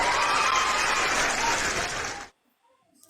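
Applause from an audience during an online call, a dense steady wash of clapping lasting about two seconds before cutting off abruptly into near silence.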